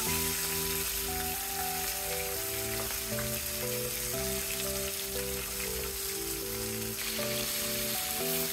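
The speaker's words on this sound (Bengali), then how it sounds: "মাছগুলোকে আমি ভালোভাবে ভেজে নেব, মানে একটু কড়া করে ভেজে নেব" Fish sizzles steadily in hot oil in a pan while being fried crisp, a constant, loud crackle with a low hum underneath and no talking.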